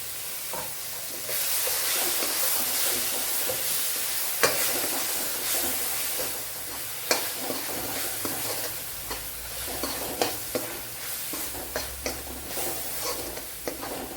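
A pan of egg roast masala with freshly added tomato paste sizzles steadily while a spoon stirs and scrapes it, and sharp clicks and knocks stand out over the continuous frying hiss.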